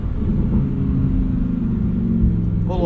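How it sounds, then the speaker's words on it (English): A 2023 Lamborghini Huracan Tecnica engine burbles deep and steady at low revs, low and rumbling, close by, with a brief rising whine near the end. "That burble at low revs,"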